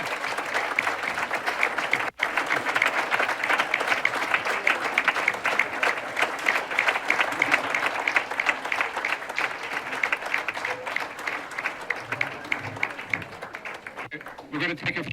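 Steady audience applause at a 2015 Peekskill candidates debate, dense and sustained clapping filling the room for about fifteen seconds with faint crowd murmur underneath.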